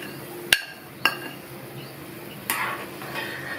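A utensil clinks sharply against a metal pot a few times, followed by soft scraping as roasted semolina is stirred into boiling water for rava upma.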